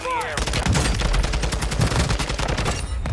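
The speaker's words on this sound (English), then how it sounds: "You're just like really enjoying shooting kills right now." Rapid gunfire with an MP5-style submachine gun in a Call of Duty match rattles loudly and continuously, dense bursts of shots with a short whooshing effect at the start.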